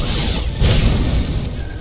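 An ammunition depot blows up in Star Wars: The Old Republic, a loud rumbling boom with debris that swells midway and rolls on as a sustained low roar, no voices.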